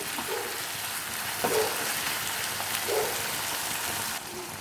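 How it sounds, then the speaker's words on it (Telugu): Mutton fries with raw Bengal gram (chana dal) in a pan, giving a soft, steady sizzle with a few faint stirring scrapes nearby. "రెండు మూడు నిమిషాలు ఇలా మటన్ని పచ్చి శనగపప్పుతో వేయించుకోవాలన్నమాట"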